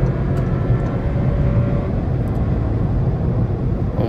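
A 2023 Volkswagen Virtus 170 TSI automatic overtakes on a highway, heard from inside as a steady, loud low engine and road drone with wind rush and no pauses, without talking.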